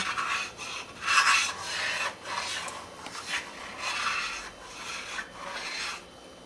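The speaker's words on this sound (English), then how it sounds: "I'm just stirring it because it sticks on the bottom otherwise" A spoon stirring tuna fish stew in a pot to keep it from sticking to the bottom, a close, steady rhythmic scraping and rubbing in repeated strokes.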